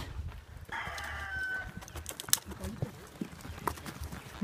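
Horse hooves clip-clopping on a trail during a ride, irregular soft thuds under a rooster crowing and other rural background noise, moderately quiet.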